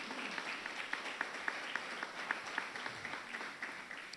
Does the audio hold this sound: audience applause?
yes